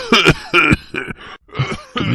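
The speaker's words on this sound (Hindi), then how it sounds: "सुबह जब उसकी नींद खुली तो वो जोर जोर से खांस रहा था" A boy coughs hard in several rough, close bursts over about two seconds, with no words spoken.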